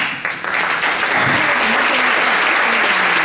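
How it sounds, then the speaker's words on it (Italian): Dense, loud audience applause fills an opera theatre, the Teatro Duse in Asolo, Italy, at a festival's close, sustained and even throughout with a crowd murmur beneath. "possiamo essere felici che un pubblico qui questa sera applaude"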